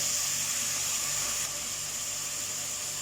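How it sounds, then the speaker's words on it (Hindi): Vegetables frying with onion in a pan for veg pulao, a steady close sizzling hiss that holds at an even level throughout. "देखिए वेजिटेबल हमारा फ्राई हो रहा है।"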